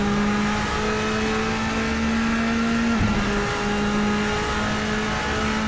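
A Bentley Speed 8 race car engine drones steadily at high revs in Assetto Corsa, loud and close with a continuous tonal hum and a brief dip near the middle, no voices.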